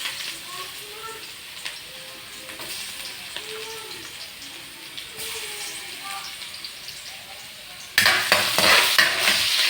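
Garlic sizzles in a hot frying pan while a spatula stirs and scrapes it, with a steady crackling hiss that swells much louder near the end as more goes in.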